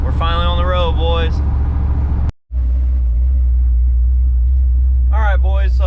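A lifted truck with a busted windshield drives on the road, its engine giving a steady, heavy low rumble heard from inside the cab. Someone talks over it at the start and end, and there is a brief dropout in the middle.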